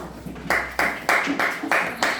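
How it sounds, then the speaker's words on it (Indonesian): Rhythmic group clapping in a classroom, about five or six sharp, evenly spaced bursts of many hands together, fairly close and loud, with faint room murmur underneath. "Oke, tepuk tangan."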